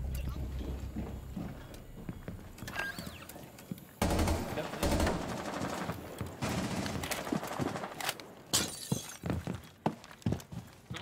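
Gunshots from a first-person shooter game ring out in a busy, chaotic mix of sharp cracks and crashing impacts, with a loud burst partway through and scattered shots after, while players talk over it.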